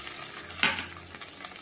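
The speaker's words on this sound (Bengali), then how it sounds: "রসুনটা একটু নাড়িয়ে চাড়িয়ে ভেজে নেব।" Garlic paste sizzles over already-fried onions in a pan as it is stirred, a quiet, steady frying hiss with soft scraping strokes for banana flower curry.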